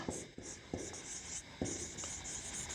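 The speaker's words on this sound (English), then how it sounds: "So we have to write like this." A pen writing during a grammar lesson, heard as steady close scratching on paper with a few sharper stroke onsets spaced through it, with no talk over it.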